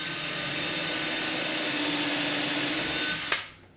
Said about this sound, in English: Now I'm drilling a few holes in each one of these sole planks from the outside in